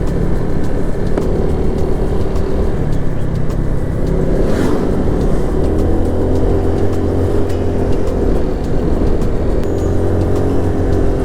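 Motorcycle riding a winding mountain road, engine droning steadily and loud throughout with rising and falling pitch as the throttle is eased on and off, wind rumble mixed in.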